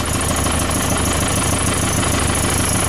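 A restored Land Rover engine runs at a steady idle, a loud, close and continuous rumble with a faint knocking roughness and no pauses.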